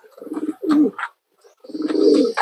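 Racing pigeons coo up close in throaty, rolling bursts, with a short pause between calls.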